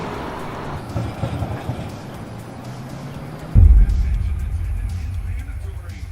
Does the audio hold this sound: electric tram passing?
yes